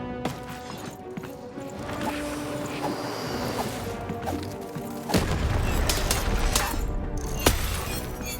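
Cannon fire in the video game Lost in Random: a heavy boom with a shattering crash lands around five seconds in, over a busy game soundtrack.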